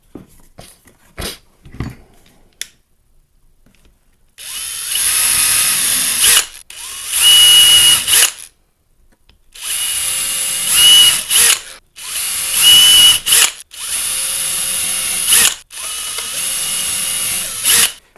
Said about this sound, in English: Let me drill out the ones that have been marked.